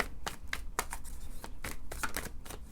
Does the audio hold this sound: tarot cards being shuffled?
yes